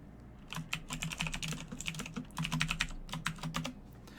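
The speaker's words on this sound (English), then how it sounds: "And yes, Cloud Orchestra, it is a mechanical keyboard. I love it. I know it's loud" Rapid clattering keystrokes on a loud mechanical keyboard, close and dry, arriving in dense uneven bursts with short pauses, alone with no voices.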